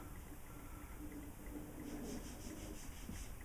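A soft cloth rubs wax polish off a Victorian station clock case, producing a faint, continuous scuffing swish with a few quicker back-and-forth strokes near the end, quiet and close with no talking.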